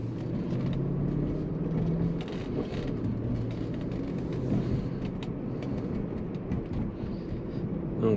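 A 2005 BMW 545i with its check engine light on drives along, giving a steady, close engine and road rumble throughout with no talking.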